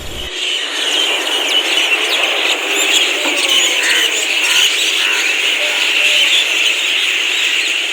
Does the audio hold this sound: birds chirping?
yes